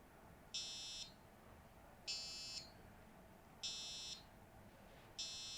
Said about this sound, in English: An alarm will now send on the caregiver's microbit.